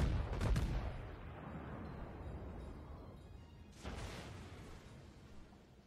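Faint, distant naval gunfire in World of Warships: a sharp salvo boom near the start, then a second softer volley a few seconds later, each fading into a dull rumble as shells fall into the water.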